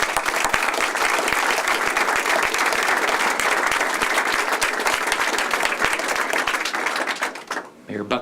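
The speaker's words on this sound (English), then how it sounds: "So let's give them a big round of applause." A crowd gives dense, sustained applause at a ConnectWise headquarters expansion event in Tampa, many hands clapping loudly and steadily before the clapping thins out and fades near the end.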